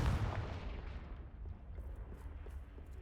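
In the Hogwarts Legacy video game, a Confringo blasting spell sets off a deep booming explosion that starts strong and fades into a rumbling decay over a few seconds.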